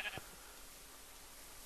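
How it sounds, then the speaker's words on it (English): A sheep in the Minecraft video game lets out a single short, faint bleat at the start. Soft background hiss follows. "All I have is sheep."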